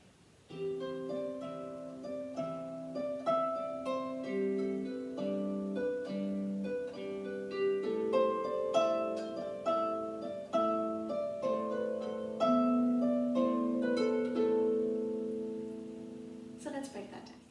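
The second part of Brian Boru's March is played on a harp: a steady stream of plucked, ringing notes builds into a flowing melody with chords, played solo and fairly quiet.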